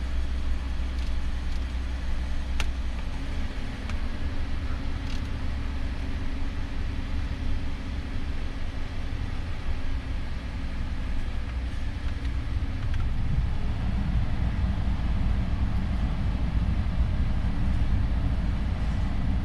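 A 2011 Ford F-150 with the 3.5L engine idles steadily with the heater running, producing a continuous low rumble that holds even for about twenty seconds.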